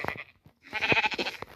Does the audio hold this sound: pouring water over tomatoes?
no